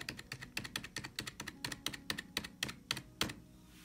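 Rapid keystrokes clatter on a Corsair computer keyboard, a steady run of crisp clicks close by, with no voices.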